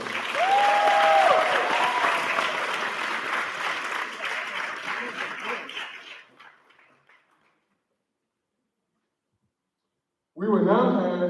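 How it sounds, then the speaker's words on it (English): Audience applause at a Mister and Miss Cheyney coronation ceremony, a full crowd clapping steadily and loudly, then tapering off to silence before a voice resumes speaking. "Let's give our entire court another round of applause."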